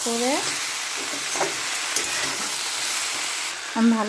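Vegetables tossed with a spice mix in a hot pan, a steady close sizzle of frying with stirring scrapes, while a voice speaks briefly at the start and end.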